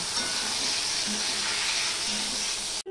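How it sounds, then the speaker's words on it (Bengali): Salted eggplant pieces frying in hot oil make a continuous, even sizzle close by that stays steady for a few seconds, then cuts off abruptly at the end. "এই তেলে আমি বেগুনগুলো ভেজে নেব"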